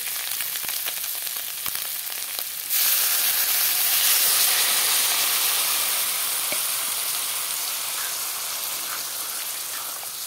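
Liquid poured into a hot pan of small-fish curry cooked with tomato sets off a loud, steady hiss and sizzle that swells after a few seconds and then holds, continuous and close, with no talking.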